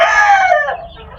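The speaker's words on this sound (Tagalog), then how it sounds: "itong mga manok" A rooster crows loudly and close among backyard chickens, one strong descending call that fades quickly into soft background clucking.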